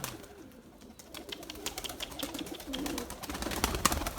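Erzurum white pigeons coo in low, repeated murmurs amid a busy outdoor loft, with scattered wing flutters and other noises rising gradually over a few seconds.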